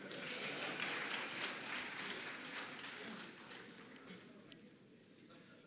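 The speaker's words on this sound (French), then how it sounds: "Applaudissez votre chef." An audience applauds a newly installed traditional chief at a ceremony in Abidjan, Côte d'Ivoire, the clapping a steady dense patter at moderate distance that thins slightly toward the end.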